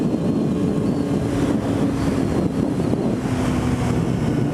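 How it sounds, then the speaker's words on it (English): Strong wind buffets the microphone outdoors on a windy day, a loud, continuous low rumble that swells and dips, with no one talking. "It's kind of really windy today"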